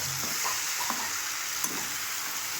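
Fish frying in a pan in a home kitchen, a soft steady sizzle with a few light scrapes of stirring, close and fairly quiet.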